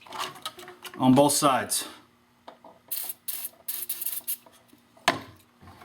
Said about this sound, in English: take your silicone lubricant and just shoot it all in there